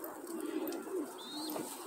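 Pigeons coo steadily in a shared racing pigeon loft, low soft calls repeating under a faint rustling background, with a thin whistle-like tone briefly overhead.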